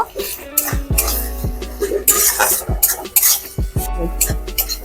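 Ground garlic, coriander, cumin, fennel and dried chilli paste stirred with fried onions in a pan for crab curry: repeated scraping and clinking of a spatula against metal, moderately loud, with no talking.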